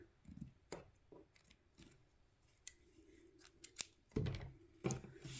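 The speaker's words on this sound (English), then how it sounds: "I'm actually going to just take my ribbon like so and cut it right here" Scissors snip through a length of ribbon during card making, a few sharp close cuts spaced irregularly, with soft handling rustles between them.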